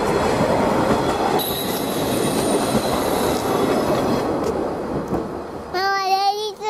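A Japanese KiHa 48 diesel train rumbles loudly and steadily into a JR Ban'etsu West Line station platform at close range, with metallic wheel squeals and a sharp, warbling high whistle near the end.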